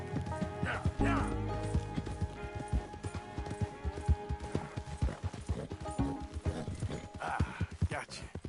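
A horse in the Red Dead Redemption 2 video game, rhythmic hoof clip-clops at a steady gait with a whinny near the start, over game music, with voices talking over it.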